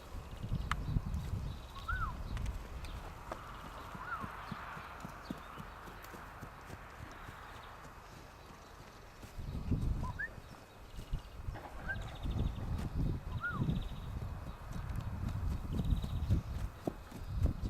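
Horses' hooves clop irregularly on the ground, near and fairly loud at times, while birds chirp faintly in the background.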